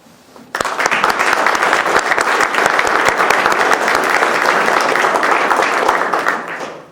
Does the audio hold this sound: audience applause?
yes